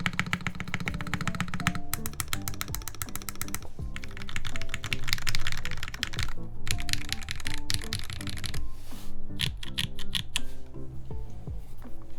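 Fast, crisp clacking of keystrokes on a custom mechanical keyboard, continuous bursts of typing with brief pauses, close and clear with no voices.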